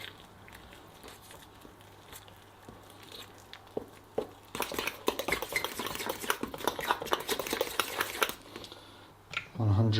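Spoon or spatula stirring a thick, cake-like batter in a bowl, starting with scattered soft taps and then settling into a dense run of sticky scraping and clacking, with talk around it.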